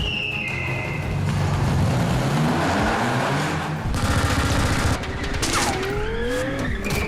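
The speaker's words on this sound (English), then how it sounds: "he's being shot at by a machine gun and shot at by these grenade launchers" Machine gun fire and grenade launcher blasts during a staged movie stunt in a car-chase action scene, a dense, continuous roar of gunfire and engine noise with sweeping vehicle tones, loud and close throughout.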